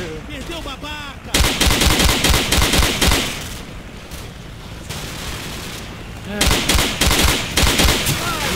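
Rapid bursts of automatic gunfire in Call of Duty, loud and close, coming in dense volleys separated by a quieter stretch of distant shots, with brief voices of players talking in between.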